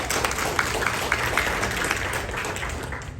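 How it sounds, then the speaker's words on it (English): Attendees at a leaders' training meeting applaud, a continuous wash of clapping with occasional sharper hand strikes, fairly loud and sustained over a roomy background. "Let's give a big round of applause for saying these words."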